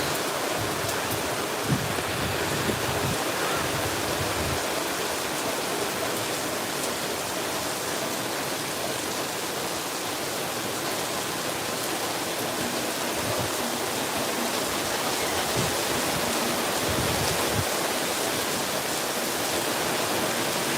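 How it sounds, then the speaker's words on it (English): Heavy monsoon rain pouring down in Las Vegas after a long drought, a dense, unbroken roar of water filling the whole scene, steady and loud throughout with no voices. "this is a really good downpour"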